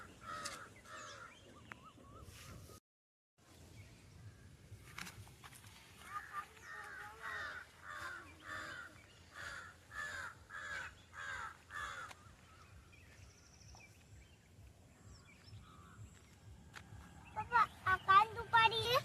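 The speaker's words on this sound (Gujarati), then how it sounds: "કાગડો બોલે" A crow caws repeatedly in a steady run of about ten harsh calls, fairly close, with faint voices and outdoor noise around it.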